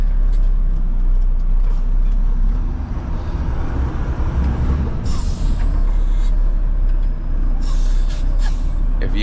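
A Mack front-load garbage truck rumbles steadily from the cab, with bursts of air-brake hiss releasing partway through and again near the end over the constant low engine drone.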